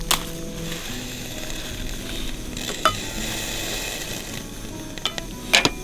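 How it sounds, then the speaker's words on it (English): Smoked dried chilies toasting in a heavy cast iron frying pan over a camping burner outdoors on a frozen lake: a soft steady hiss and sizzle runs throughout, broken by a few sharp clinks and scrapes of the pan. "lovely cast iron frying pan on top of our burner, because the first thing we need to do with our smoked dried chilies is just to toast them off"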